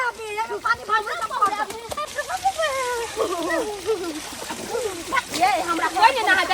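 Water poured and splashed over someone bathing in summer, rough wet splatters running throughout at moderate loudness beneath near-constant lively talk.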